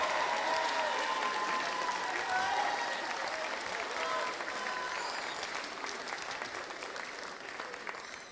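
Sustained applause from a large audience at a spring university commencement ceremony, steady and dense throughout before tapering slightly at the end, with no talk over it.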